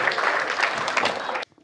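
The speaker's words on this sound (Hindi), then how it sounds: "जोरदार तालियां" Listeners at a Hindi poetry recital break into loud, thick clapping that holds steady for about a second and a half, then cuts off abruptly to near silence.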